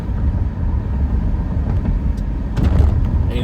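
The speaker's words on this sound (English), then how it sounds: "today is a perfect day for driving with the window down" A car driving with the window down, a loud rumble of wind buffeting and road noise with rising gusts near the end, no voices.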